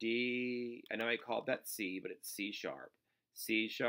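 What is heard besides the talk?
No distinct noise like a dog, phone or traffic.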